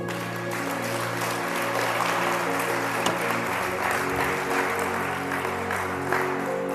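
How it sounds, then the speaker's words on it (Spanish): A church congregation applauds during a Spanish-language sermon, a sustained, even wash of clapping that holds steady for several seconds under a faint background hum. "Aplauda a Dios en esta mañana."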